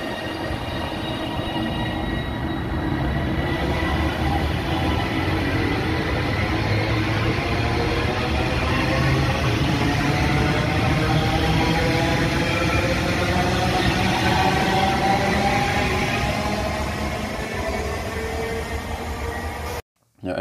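A CAF Civity electric train of the kind used on Classes 195, 331 and 397 runs under its traction drive, its whine rising in pitch from the start, loud and continuous for about twenty seconds.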